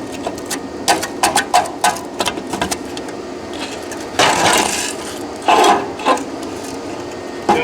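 Die grinder cutting rusty metal on a Harley 45, heard as a series of short, sharp bursts early on followed by two longer, harsher grinding passes, fairly close and alone.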